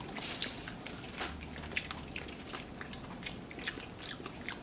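Chewing of fried sapsap fish, cooked soft rather than crunchy, at a Filipino breakfast: close, quiet moist biting and mastication with small squishy clicks, steady and continuous.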